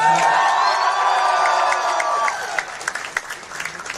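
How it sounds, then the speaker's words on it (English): A crowd claps and cheers over a sustained musical tone, which stops partway, leaving scattered claps and voices. "round of applause"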